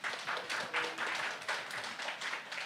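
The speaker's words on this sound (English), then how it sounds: "Please give her an applause." Audience applause welcoming a speaker at a Pfizer company meeting, a steady wash of many hands clapping at an even level throughout, with no voices over it.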